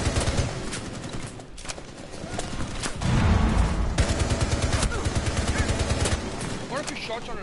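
Dense bursts of automatic gunfire rattle through a competitive ranked video game match, loud and close, with rapid repeated shots and a heavier thumping stretch midway, under excited talk from players.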